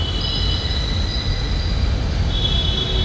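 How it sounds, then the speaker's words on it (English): A brand-new Mumbai Metro train passes, a steady loud rumble of rail cars with faint high wheel squeal over a continuous low roar, heard from a nearby road. "Mumbai Metro has just started."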